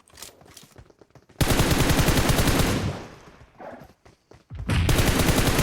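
Automatic gunfire in the PUBG Mobile battle royale game, loud sustained bursts of rapid shots separated by short pauses, up close with no talk.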